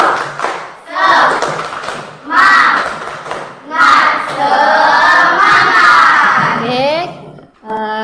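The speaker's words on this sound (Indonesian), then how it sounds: "Pimpin lalu tepuk semangatnya" A class of schoolchildren loudly chants a rhythmic spirit cheer in unison, their shouted phrases punctuated by group claps and thumps in bursts that rise and pause, near and bright, ending in a short final shout.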